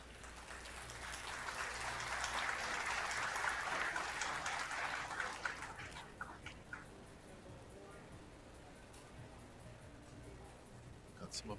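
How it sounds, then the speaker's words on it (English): Applause from spectators at a nearby table during a 10-ball pool team match, a swell of clapping that builds, holds and then fades to scattered claps, with commentary voices present. "Got some applause coming from table number 1."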